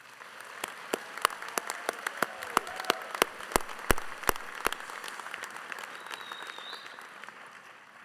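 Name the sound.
graduates' round of applause at commencement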